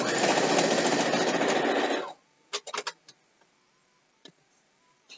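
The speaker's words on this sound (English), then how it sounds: "I didn't even touch it, and I was sewing" Domestic sewing machine stitching fabric for a quilt: a loud, steady mechanical whir runs for about two seconds and stops abruptly, followed by a few light clicks and taps close by.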